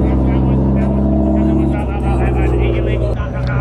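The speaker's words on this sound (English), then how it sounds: "This Porsche is loud. Sounds good." A loud Porsche TT RS engine rumbles steadily at a late-night street car meet, a strong low throb that holds throughout with a slight dip midway, with people talking over it.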